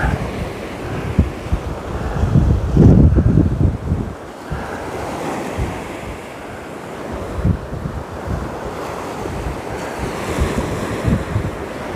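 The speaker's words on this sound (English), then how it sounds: "Now this wind is meant to be dying off later" Strong coastal wind buffets the microphone over breaking surf during a fishing outing, loud rumbling gusts that swell and ease with a continuous wash of waves, no talking.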